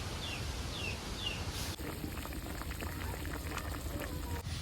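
Curry bubbles and simmers steadily in a pan in a village kitchen, a dense continuous boil with faint bird chirps early on and a shift to a fuller bubbling partway through.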